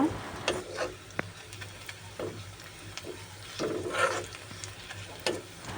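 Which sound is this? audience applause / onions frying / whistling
onions frying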